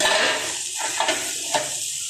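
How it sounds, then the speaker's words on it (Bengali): Ash gourd fries in a pan with a steady close hiss and sizzle, broken by a few soft stirring scrapes. "এই দেখো মা এখানে চাল কুমড়ো এটা ভেজে নিচ্ছে"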